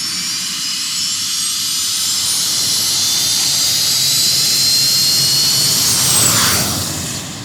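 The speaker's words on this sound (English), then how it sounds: "Another jetpack." Another jet pack sound effect, a loud sustained jet roar with a bright hissing upper layer that builds and swells near the end, then eases off slightly.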